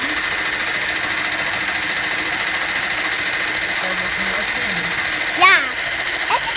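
An electric mixer whirs at high speed while cloud bread batter is whipped, a loud steady drone throughout, with brief voices rising near the end.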